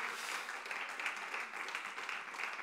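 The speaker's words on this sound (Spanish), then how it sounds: "¿Alguien puede darle un fuerte aplauso al Rey de Reyes?" Congregation applause during a church sermon, a soft, steady wash of many hands clapping that sounds distant and continues evenly for the whole stretch.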